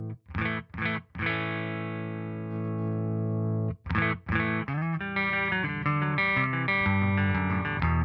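Electric guitar run through Neural DSP's Archetype Rabea plugin with compression and no dry signal: a few clipped, distorted chord stabs, a long sustained chord ringing out, then more stabs and a busier distorted passage, loud and saturated, no voices.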